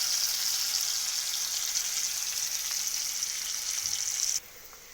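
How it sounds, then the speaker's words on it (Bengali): Chopped onion hisses in hot oil with black cumin and a green chilli, a loud continuous frying sizzle that cuts off abruptly just before the end. "কুচিয়ে রাখা পেঁয়াজটা আমি দিয়ে দিলাম"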